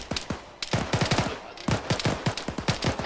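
Militia firing in DayZ on the Taviana map, heard as bursts of rapid gunshots in two volleys with a brief pause between them, loud and close, with no talking.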